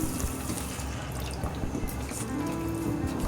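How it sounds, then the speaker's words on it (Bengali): A cup of water poured into prawn curry masala in a pan, producing a steady splashing, bubbling wash with sizzle underneath, continuous and close throughout. "আমি এতে 1 কাপ পরিমাণ জল দিয়ে দিচ্ছি।"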